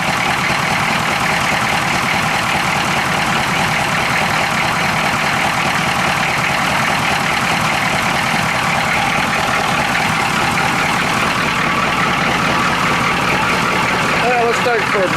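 A diesel vehicle engine idles steadily with a little oil leaking in one corner, a continuous loud low rumble with mid-range drone running the whole time while someone talks over it.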